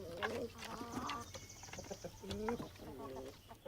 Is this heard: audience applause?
no